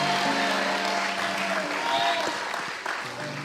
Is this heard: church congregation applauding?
yes